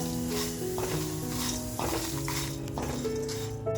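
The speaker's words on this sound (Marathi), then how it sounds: "बघा मसाल्यांचा तुम्हाला आवाज येत असेल खमंग मसाला अगदी परतलेला आहे" Spices for Nagpur-style Saoji mutton sizzle steadily in a pan, mixed with clinks of a utensil stirring against the metal.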